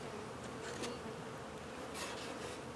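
Honey bees buzzing at a hive being fed dry sugar, a dense, even drone close by that holds steady throughout, with no voices.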